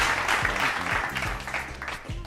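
Applause from a studio audience during a sports talk show discussing the Dallas Cowboys, a brisk clatter of many hands held steady and fairly close for about two seconds, with no talk over it.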